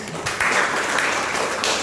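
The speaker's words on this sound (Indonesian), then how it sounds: "Tepuk tangan untuk kita semua." A school class in an ecumenical religion lesson claps together briefly at the end of the meeting, a short burst of many hands at close range.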